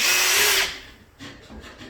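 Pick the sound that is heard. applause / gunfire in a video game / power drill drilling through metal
power drill drilling through metal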